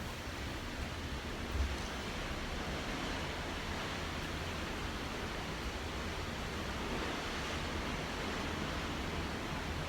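A steady, broad wash of Pacific Ocean waves and wind roars continuously, even and unbroken, heard from the back of a boat, with no voices.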